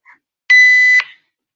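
A workout timer buzzer sounds once, a loud, harsh, steady electronic tone lasting about half a second, preceded by a faint brief blip.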